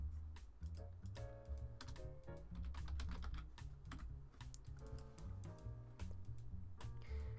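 Rapid keystrokes on a computer keyboard as a search is typed, a dense run of close, crisp clicks over a steady tonal backdrop.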